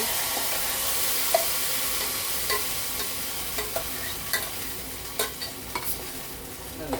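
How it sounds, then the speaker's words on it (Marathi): Ground chutney tipped into a hot pan with asafoetida gives a faint, steady sizzle, with scattered light scraping taps of stirring throughout. "आता गॅस बंद करू आणि ही चटणी आपण वाटलेली त्यात टाकून घेऊ."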